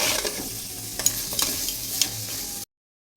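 Beans and cabbage being stir-fried in a pan for a Bengali crab dish, a soft steady sizzle with a few scraping stirs of a spatula, ending abruptly in silence.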